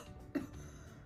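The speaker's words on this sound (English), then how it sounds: "Cause I need to take a couple seconds to just fucking cough." A woman lets out a single short, muffled cough against quiet background hiss, faint and brief.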